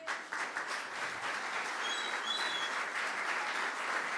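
Steady applause from a church congregation during a worship service, a dense continuous patter of many hands clapping at moderate distance, fairly faint overall with no voices over it.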